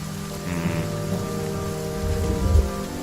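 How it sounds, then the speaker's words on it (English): In The Banner Saga 2, rain falls steadily on the ground as a caravan trudges through mud, forming a dense, continuous hiss over layered low droning music with a brief deeper rumble near the end. "The rain continues and the caravan struggles to keep moving."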